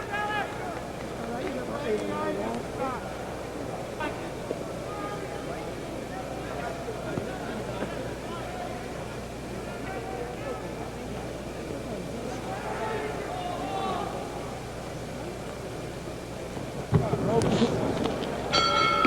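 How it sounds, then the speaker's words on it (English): A boxing bell rings near the end to close the bout between Rubin Carter and James Ellis, sounding as a brief burst over a steady hum of arena crowd noise. "There's the bell ending the fight"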